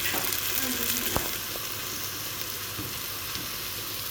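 Tomatoes are added to a hot frying pan while making bamya with meat, a steady close hiss of sizzling with a couple of soft knocks early on.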